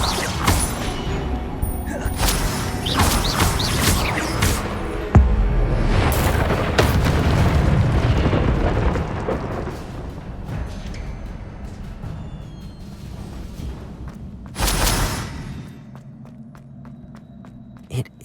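Incendio fire spell cast in Hogwarts Legacy: a loud whooshing burst of flame with a booming impact, then a lingering rumbling crackle that fades, with footsteps and a second flare later.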